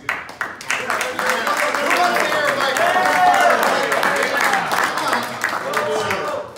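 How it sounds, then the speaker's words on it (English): Audience at a 1 Million Cups Daytona entrepreneur presentation gives a round of applause, a dense, steady clapping crowd that starts sharply, swells and holds, with scattered voices mixed in, fairly close and loud. "So first of all, round of applause."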